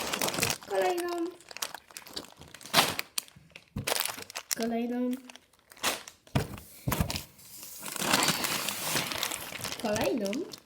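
Crinkly plastic bags of Lego bricks for a Porsche 911 RSR set are opened one after another, with bursts of crackling and tearing plastic between stretches of someone talking nearby.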